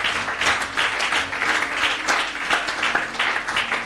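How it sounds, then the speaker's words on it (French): A church congregation applauding during a sermon, a dense, steady wash of many hands clapping at moderate loudness for several seconds without a break. "Si tu comprends, acclame le Seigneur Jésus."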